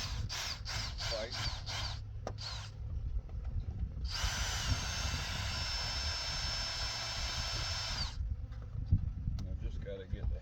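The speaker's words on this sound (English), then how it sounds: "drilling out these rivets" A power drill whirs in several short bursts, then runs in one long sustained grind while drilling out rivets during a honeybee colony removal near Palacios, Texas; someone talks intermittently around it.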